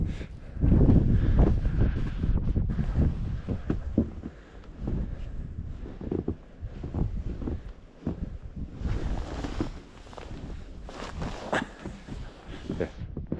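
Cold mountain wind buffets the open slopes near Powell Hut on Mount Holdsworth, New Zealand, in loud gusty rushes that swell and fade, with the strongest blasts early on.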